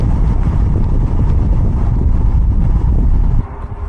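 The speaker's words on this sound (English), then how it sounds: "It's also quite windy." Strong wind buffets the microphone during a long-distance ride on a Cruzbike V20 recumbent bike in rain, a loud continuous low roar that drops off slightly near the end.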